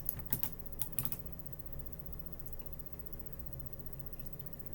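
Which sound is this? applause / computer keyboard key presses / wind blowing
computer keyboard key presses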